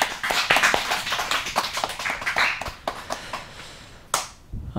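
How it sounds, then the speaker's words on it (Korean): A congregation at a church worship service claps steadily, a dense stretch of many hands that fades out near the end. "자, 박수."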